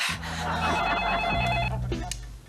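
An indoor telephone bell rings in a short electronic burst, moderately close, with breathy gasps and a faint room murmur around it in a household sitcom scene.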